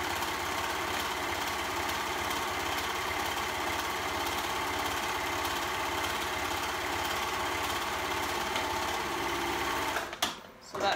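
A sewing machine runs steadily, stitching through dress fabric for a tulip-style dress, a close, continuous mechanical whir for about ten seconds before it stops abruptly near the end.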